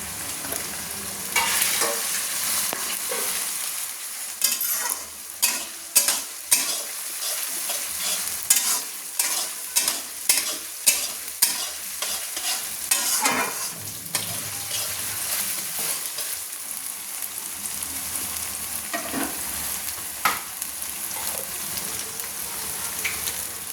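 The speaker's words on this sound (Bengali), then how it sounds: "রসুনটা দিয়ে দিচ্ছি, দিয়ে আমি একটু নেড়ে নিচ্ছি।" Ground garlic paste frying in a pan for a mutton kosha, with a steady hiss of sizzling under repeated sharp scrapes and taps of a stirring spoon, some in quick bursts, close and fairly loud.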